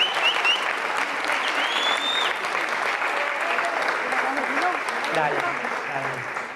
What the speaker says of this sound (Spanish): justo llegan los aplausos